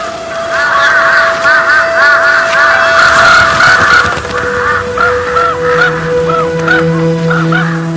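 Crows cawing loudly in Siberian cold of minus 29 degrees, many repeated harsh calls from several birds close by, layered over a steady droning background without speech.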